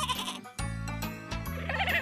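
A baby sheep bleating, loud and close, with a long wavering bleat sustained through most of the clip after a brief earlier call.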